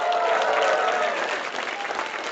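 Applause sound effect played on a morning chat show, a dense, even wash of crowd clapping that swells at first and then eases slightly, heard without talk.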